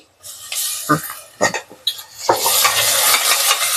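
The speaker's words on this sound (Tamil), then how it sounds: "இஞ்சி பூண்டோட இந்த பச்சை ஸ்மெல் போகிற வரைக்கும் வதக்கணும்" Onion with ginger garlic paste sautés in a pan, a close sizzle broken by several sharp stirring scrapes and clatters of a utensil, then a louder sustained frying hiss.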